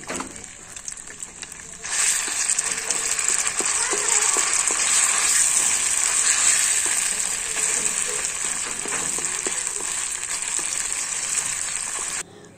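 Onion paste fries in mustard oil in an iron kadhai, a sudden hissing sizzle that swells and holds as a steady, close, bright crackle, with quiet handling noises before it begins.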